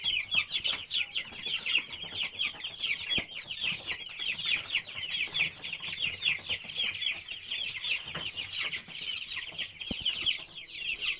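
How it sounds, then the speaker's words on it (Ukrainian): Continuous busy clucking and cheeping from a flock of chickens with ducks, close and constant, with occasional knocks and shuffles and no talking. "Ось, качки ходять, курчатка ходять вже"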